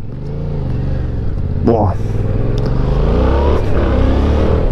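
A Yamaha MT07 motorcycle accelerates hard under throttle, the engine note climbing steadily in a loud, close roar, with a brief voiced exclamation partway through.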